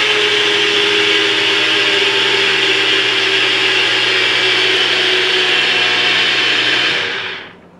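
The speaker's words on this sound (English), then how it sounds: "Of course, I got the nutribullet." A NutriBullet blender mixes a protein and creatine drink with a loud, steady motor roar that runs for about seven seconds and then winds down abruptly, with no voices.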